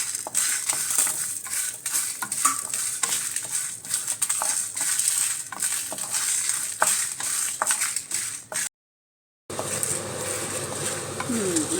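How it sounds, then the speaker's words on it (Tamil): Chicken, curry leaves and mint dry-roasting in a pan without oil make a continuous crackling sizzle with frequent scraping stir clicks, then a brief cut before the sizzle resumes. "இது எல்லாத்தையுமே போட்டு கொஞ்சம் நல்லா ட்ரையாக தான் வறுக்கிறோம்"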